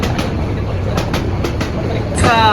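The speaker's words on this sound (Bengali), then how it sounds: "ট্রেন আসছে।" A train pulling into the platform at the airport railway station at night: loud, steady rumble with rhythmic wheel clacks, and a brief squeal near the end.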